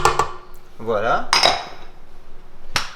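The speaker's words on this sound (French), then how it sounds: "On mélange." Vegan cookie dough with unsweetened applesauce and coconut milk being stirred in a bowl: loud scraping and clinking of a utensil against the bowl, a few sharp knocks, alone without talk.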